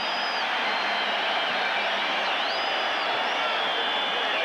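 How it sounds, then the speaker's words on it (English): Distant football stadium crowd at a 1985 Cowboys at Cardinals game, a broad steady roar with faint whistles rising and falling over it, with no voices standing out. "Crowd loves it."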